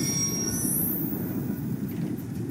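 A video game train rumbles past steadily, a dense low roar with a high metallic whine sweeping upward, no voices over it.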